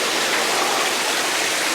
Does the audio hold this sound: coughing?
no